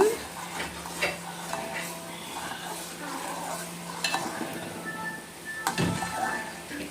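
A spoon stirs boiling milk in a pan while it thickens into khoa, with scraping and light clinks against the metal over a soft simmering bubble. Someone talks quietly in places.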